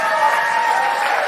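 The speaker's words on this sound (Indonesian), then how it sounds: "Tepuk tangan dong buat Indonesia" An audience at a church testimony service gives a short burst of applause, a dense steady patter of clapping that sounds fairly close and fills the brief moment.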